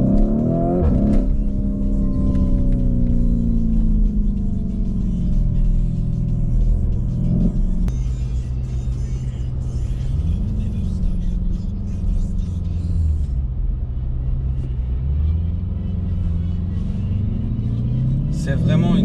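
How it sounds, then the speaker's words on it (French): A Lamborghini Urus SUV engine accelerates hard, a loud, steady growl rising and falling in pitch through several surges over about nineteen seconds. "Je sais pas si vous entendez à l'accélération, mais c'est la folie."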